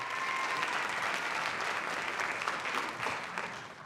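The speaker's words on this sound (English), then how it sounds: "Give him a round of applause." Warm, sustained applause from a high school jazz concert audience for an alto sax soloist, dense and steady before easing slightly toward the end.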